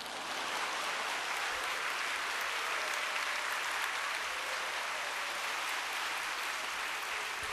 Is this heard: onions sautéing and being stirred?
no